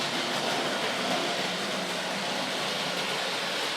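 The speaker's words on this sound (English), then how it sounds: "So we'll just get the Bristol Castle back round to the other side of the railway." A Bristol Castle model locomotive runs on a Tri-ang or Hornby Dublo model railway, giving a steady, even rushing whir throughout at moderate level, with no voices.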